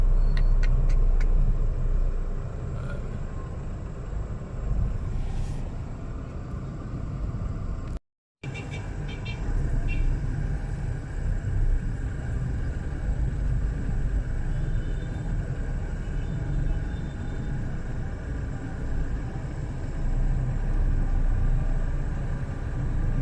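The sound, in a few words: traffic under LRT station in Baclaran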